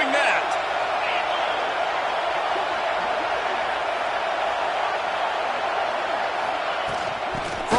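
Stadium crowd at a UGA vs Florida State college football game roars in a dense, steady wash of cheering, loud and continuous, with a commentator's voice over it.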